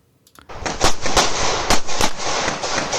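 Pistol gunshots fired at targets on a USPSA shooting stage while the shooter moves, a sudden burst of loud, sharp cracks in quick irregular succession after a near-silent start.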